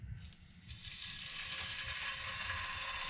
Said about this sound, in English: add my fish pieces to the pan